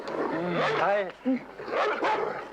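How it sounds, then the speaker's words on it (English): Trained guard dogs in the 1978 thriller film The Boys from Brazil bark and yip loudly in several close bursts, mixed with people talking. "They're trained to attack anyone carrying a gun."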